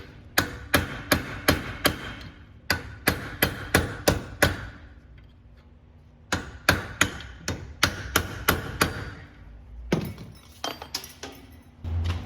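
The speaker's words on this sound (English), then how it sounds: "We're gonna grab a hammer real quick." Sharp metal-on-metal hammer blows strike the rear wheel bearing of a 2001-2005 Lexus IS300, coming in quick, ringing volleys with a pause between sets.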